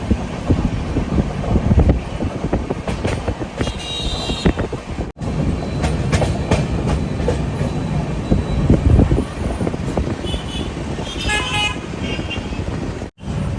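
A train rolls into Warangal railway station platform 1 with steady rumbling and mechanical clatter, brief horn toots near the end, and faint background voices.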